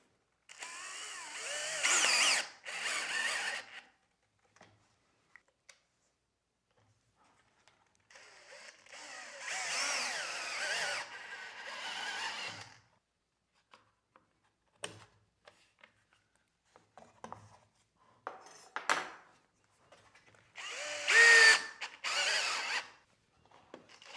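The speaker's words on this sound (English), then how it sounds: "And we'll just screw that in." A power drill drives screws into wood while a protrusion stop is built, heard as several short whirring bursts separated by long quiet pauses, fairly faint and close.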